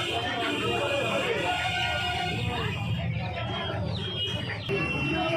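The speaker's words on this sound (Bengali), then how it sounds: "খাঁচাটার মধ্যে প্রচুর কালেকশন রয়েছে হাইব্রিড মুরগির" Hybrid chickens cluck and squawk together inside a crowded market cage, a dense overlapping chorus close by, with people talking in the background.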